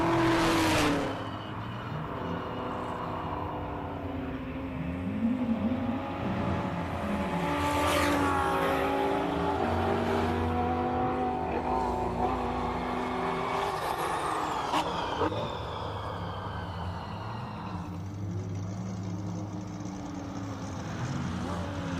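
An Audi R8 GT4 race car climbing a hillclimb course at Simola, its engine note rising and shifting through gears at steady loudness, with crowd or commentary murmur faint underneath.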